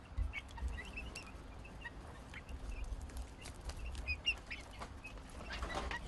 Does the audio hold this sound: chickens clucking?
yes